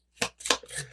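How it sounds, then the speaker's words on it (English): Squid Cake Marseille tarot cards riffle and tumble in three or four quick, crisp papery bursts, close and fairly loud, with no voice. "Put these cards back in some order. They are not shuffling, but falling out."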